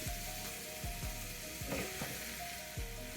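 Ground beef sizzling in a pan with softened vegetables for a sweet potato hash, a quiet steady frying hiss broken by a few short scraping thumps at a regular pace.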